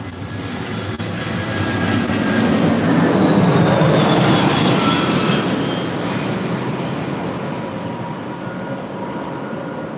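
Jet airliners pass low overhead at an LAX parking garage, a loud broadband engine roar that swells to a peak midway and then slowly fades, with no voices.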